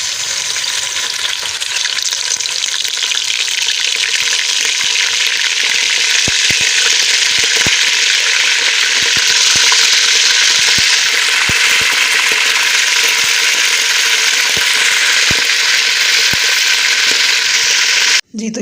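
Chicken pieces frying in hot oil for a white bean (lobia) and chicken korma give off a loud, steady sizzle that crackles on without a break until it cuts off at the end.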